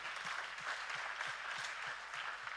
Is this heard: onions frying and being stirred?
no